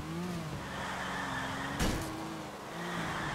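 Ferocci sports car driven in the game GTA IV, a steady engine drone rising and falling in pitch with a brief burst of tire or impact noise partway through, no talking.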